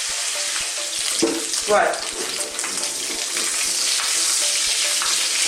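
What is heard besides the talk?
pork ribs browning in hot oil with ginger, garlic, chilli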